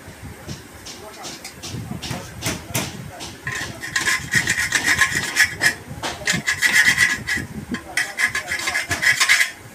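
Hand filing of wood with a rasp during woodwork for kitchen cabinets: a steady run of scraping strokes, close and fairly loud, grows busier and more insistent over the second half.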